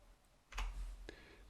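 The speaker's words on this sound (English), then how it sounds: "I'll press the F12 key on my keyboard" The F12 key pressed on a computer keyboard gives two quiet, crisp clicks about half a second apart, alone against faint room hiss.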